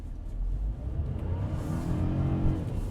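A Kia Stonic with a small turbo petrol engine pulls away from a stop under hard throttle, its engine note steady and rising with road and cabin rumble, heard from inside with no talking.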